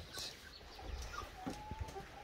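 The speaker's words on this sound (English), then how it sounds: "We got chickens." Soft, scattered clucking from chickens nearby on a ranch, quiet and intermittent over low outdoor background noise.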